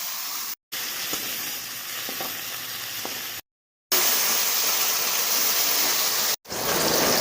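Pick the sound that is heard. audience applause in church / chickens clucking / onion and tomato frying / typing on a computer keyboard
onion and tomato frying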